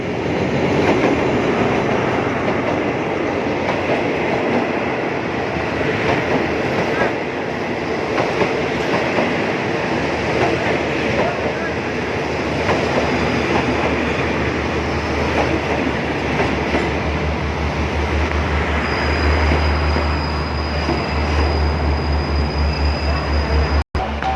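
An air-conditioned passenger train rumbles steadily at Pattani railway station in Thailand, with a continuous low roar and faint rail clatter, nearby and sustained, a thin high tone appearing toward the end.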